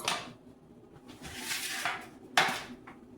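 Quiet scraping and light clinks of butter being spread around a metal pan for peanut butter fudge, soft and close, with one sharper metallic tap near the end.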